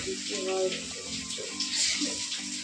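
Tap water running steadily into containers in a home, a continuous close splashing rush with faint clinks and movement noises.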